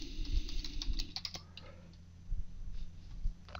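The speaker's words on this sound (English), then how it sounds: "I'm going to type in superuser, hit my enter key" A computer keyboard is typed on in bursts of quick, light clicks and taps, close and fairly quiet, with short pauses between runs of keystrokes and a faint hum underneath.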